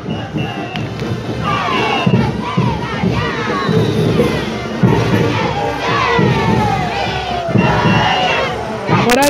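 An outdoor crowd at a street parade in Bustamante cheers and shouts loudly for the Caporales Victoria dance troupe, with dense overlapping voices, whoops and sporadic thumps filling the whole stretch.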